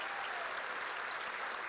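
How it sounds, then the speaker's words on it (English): Audience applause at a county government address: a steady, dense patter of many hands clapping, moderately quiet and even throughout. "Let's give them a big round of applause."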